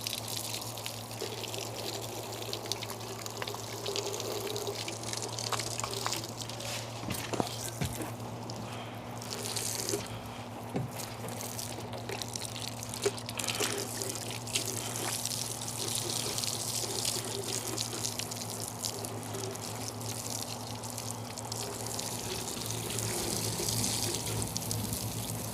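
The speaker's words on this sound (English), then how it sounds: "a trolling motor here, so I will rinse that down thoroughly" Steady running water from a hose or tap splashes continuously over a boat's trolling motor during a rinse-down, a constant wash with a low hum underneath and no talk.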